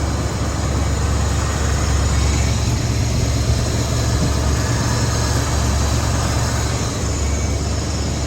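Steady low rumble of an idling Ford F-100 pickup truck engine with single exhaust, close and continuous, with a slight roughness in the exhaust note.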